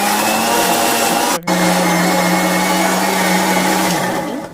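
A mixer grinder grinds spices with coriander leaves and a little water, whirring loudly and steadily, briefly cutting out before starting again and running on with a high motor whine.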